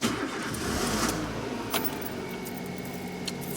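A car engine cranks and starts close by, with a brief jangle of keys. It settles into a low, steady idle.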